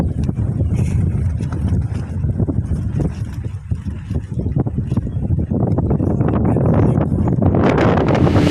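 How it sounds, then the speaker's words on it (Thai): Strong wind gusts over a lakeside campsite at Kaeng Krachan reservoir, a loud, continuous roaring rush with buffeting on the microphone that swells toward the end. "ลมที่แก่งกระจานนะคะตอนนี้"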